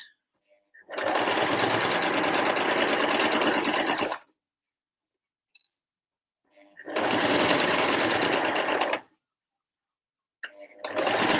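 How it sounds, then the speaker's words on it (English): A sewing machine stitches two layers of fabric for a bucket hat, running in three loud, steady bursts of rapid needle chatter with short pauses between them. "not the fastest bit of sewing because you need to constantly check that the two bits of fabric are dead flat on top of each other"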